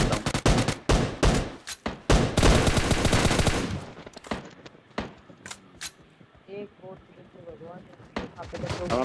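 Video game gunfire drills two bots in fast automatic bursts that are loud and dense at first, then thin out into scattered single shots and clatter while someone talks over it.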